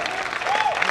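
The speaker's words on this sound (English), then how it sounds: "A big round of applause for Kunal" Audience applause for a competition finalist at a college fest, a short, steady wash of clapping with a brief tonal whistle riding over it.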